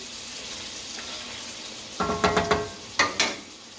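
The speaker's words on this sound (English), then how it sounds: "get this shrimp good and cooking" Shrimp fry in a skillet on a gas stove for a Cajun chicken shrimp pasta, giving a soft steady sizzle. Two bursts of stirring scrapes and clatter follow, with no talk.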